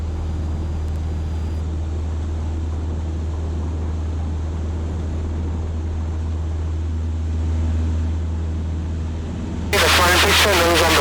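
A light aircraft's engine holds a steady, loud droning hum through a takeoff roll, heard from inside the cockpit, ending in a sudden burst of harsh noise.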